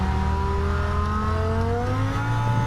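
A 2002 Dodge Viper GTS engine pulls hard on a race track, a loud, steady roar rising in pitch as the car accelerates through the gear, heard from close by with no voices.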